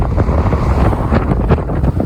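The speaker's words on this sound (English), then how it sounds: "It's slightly windy today," Heavy wind buffets the microphone in a constant low rumble with gusty surges, loud and close throughout, on a bikepacking ride near Lithgow, Australia.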